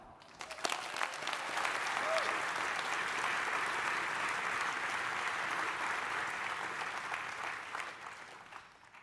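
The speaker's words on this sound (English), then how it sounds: "Let's give a round of applause to the engineers, scientists, and administrators that have kept that beacon of collaboration alive." An audience at Harvard Alumni Day breaks into sustained applause, a dense, even wash of many hands clapping that holds steady for several seconds before tapering off.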